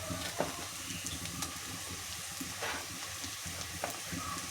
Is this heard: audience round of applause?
no